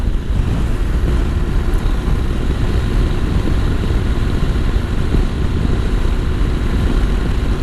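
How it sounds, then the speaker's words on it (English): Exhaust and engine note of a Honda NC750X DCT motorcycle in sport mode while riding, a dense steady rumble mixed with heavy wind noise, continuous and loud throughout with no talking. "they gave it a nice exhaust note in sport mode"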